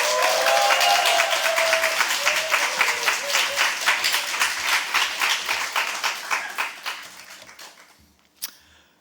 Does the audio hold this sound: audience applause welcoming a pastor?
yes